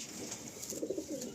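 Malwai pigeon cooing softly in low, rounded pulses, a few coos clustered together toward the end over a steady background hiss.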